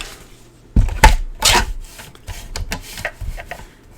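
A paper trimmer slices designer series paper in a few short, close scraping strokes with sharp rasping bursts and quiet gaps between them.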